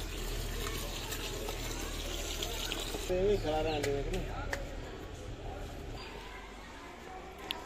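Water poured from a container onto loose, freshly loosened soil around a newly planted plant, a steady wash of running and trickling water under outdoor background noise, with a brief clearer splashing burst midway.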